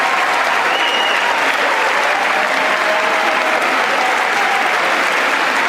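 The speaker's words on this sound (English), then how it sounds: "And everyone's standing clapping." A standing audience claps at a live political-commentary show, dense steady applause filling the room for several seconds, with faint voices and cheers mixed in.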